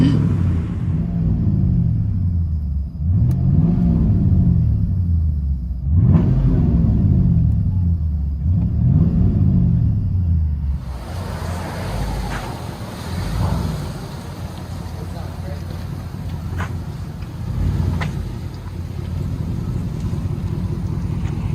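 A 1989 Ford Crown Victoria's 4.2L Windsor V8 with true dual straight-pipe exhaust idles with a deep, lumpy rumble, blipped several times in rising and falling revs, then settling into a rough, loud idle.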